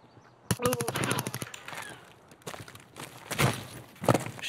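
A burst of automatic gunfire in Escape from Tarkov, a rapid string of sharp close shots near the start followed by scattered single shots and movement sounds.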